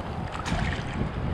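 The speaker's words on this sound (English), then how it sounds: "Yeah, waves are coming now." Cold sea waves surge and break around swimmers, a continuous broad wash of churning water with wind buffeting the microphone, steady and close throughout.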